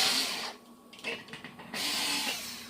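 An electric drill bores a hole through a thin aluminum cake pan lid: a close, high whirring drone, briefly interrupted by stuttering bursts as the bit catches, then running steadily again.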